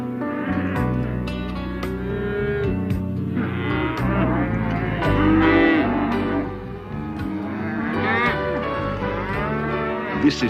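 Cattle being marked and branded at Mangarani Station on the Birdsville Track moo loudly and repeatedly, with several overlapping bellows from a close herd in an open outback yard.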